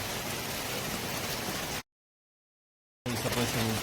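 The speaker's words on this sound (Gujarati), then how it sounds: "જોઈ શકો છો મિત્રો, હજી વરસાદ ચાલુ છે." Steady rain falling during the monsoon in North Gujarat, a dense even hiss that stops abruptly for about a second and then returns with low rumbling underneath.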